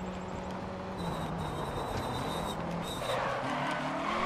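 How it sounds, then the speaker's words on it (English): A Lancia Fulvia rally car in DiRT Rally drones steadily as its engine brakes, a constant mechanical roar with gravel and road noise that grows slightly louder toward the end. "Listen to the engine braking."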